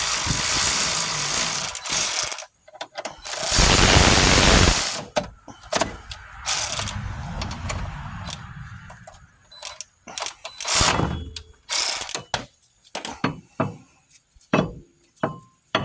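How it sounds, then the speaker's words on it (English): Close, loud mechanical rattling from a ratchet wrench during a Lincoln Town Car brake caliper replacement comes in bursts, with rapid clicking and whirring separated by brief pauses. "Try out this new ratchet here."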